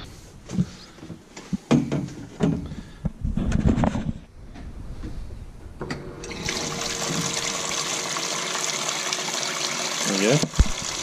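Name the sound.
water running through hose into car cooler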